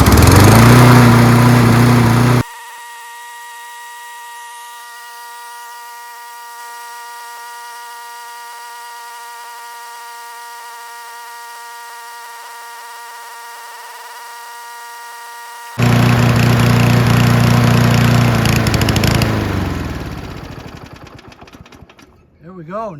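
A Kohler engine on a Toro Recycler XT675 lawn mower, run to burn off the carburetor's fuel, roars close and steady in two stretches, then sputters and fades as it dies.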